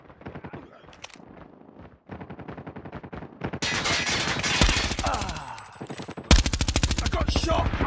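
Rapid automatic weapon fire in the mobile shooter Call of Duty Mobile during a multiplayer match, several loud rattling bursts separated by short pauses, the later bursts louder and closer.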